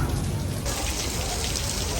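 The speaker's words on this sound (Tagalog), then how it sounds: "It's been raining here in Bangkok." Rain pours steadily in Bangkok, a dense close patter of drops on surfaces with a constant hiss that grows a little brighter midway, no voices over it.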